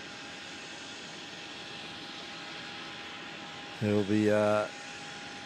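A Qantas jet airliner rolls onto runway 27 at Melbourne Airport, its engines a steady distant drone heard through a continuous roar, with a brief burst of talk near the end.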